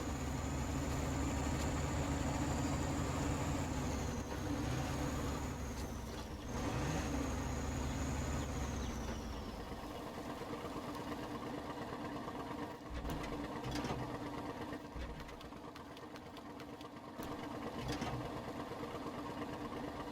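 A big tractor in a farming video game grinding through deep ruts: a continuous low engine drone with a high whine that falls away partway through, then rougher rumbling with scattered clunks and no speech.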